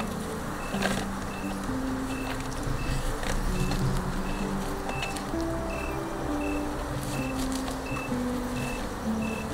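Small swarm of African bees being moved into a new hive during a removal to start an apiary, giving a dense continuous buzzing hum with scattered clicks and faint beeps in the background.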